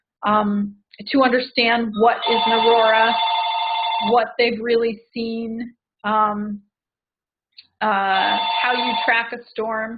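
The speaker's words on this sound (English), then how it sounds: "Sorry, that's my phone in the background." A telephone rings in a meeting room, a steady bell-like tone running for stretches under continuous nearby speech.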